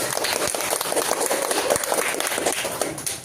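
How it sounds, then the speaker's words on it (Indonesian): Classmates in a teaching-practice session clap for the first group, a busy continuous patter of applause filling the short stretch with no pause. "tepuk tangan untuk kelompok pertama"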